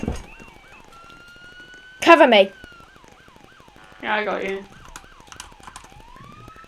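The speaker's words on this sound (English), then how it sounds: "It's siren." Police siren in the Roblox game Liberty County, a repeating wailing whoop cycling steadily in the background while two brief bursts of speech break in.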